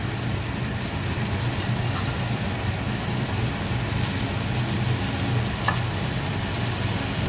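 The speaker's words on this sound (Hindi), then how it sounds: "अब चावलों को मैं इसमें डाल देता हूँ तमाम को।" Uncooked rice tipped into a pot of sizzling garam masala and dry fruit makes a steady, close frying hiss that runs the whole time with no voices.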